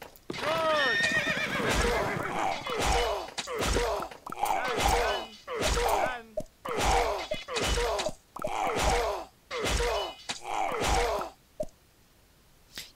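In the medieval strategy game The Wall-Medieval Heroes, a horse neighs and whinnies again and again over clip-clopping hoof sounds, a loud repeating sequence of calls with short gaps between them, under a speaking voice.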